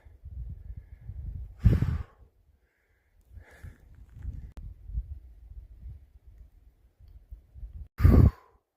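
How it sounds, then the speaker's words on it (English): Heavy breathing from a hiker at high altitude on a wilderness trail, with slow, labored breaths and two sharp, loud exhales or sighs close to the microphone. "Can you tell I'm breathing in altitude?"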